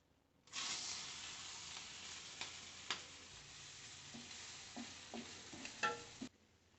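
Green chillies and onion fry in oil for an onion samosa filling, a quiet steady sizzle with occasional clicks and scrapes of a spoon stirring the pan, close by and with no talk.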